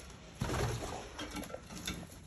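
Colored homer pigeons in a loft make soft cooing and rustling sounds at close range, faint against a quiet room, with no one speaking.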